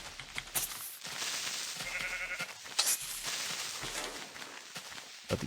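Sheep bleat in Minecraft, several short blocky cries scattered across a few seconds, mixed with light in-game footsteps and clicks at moderate loudness.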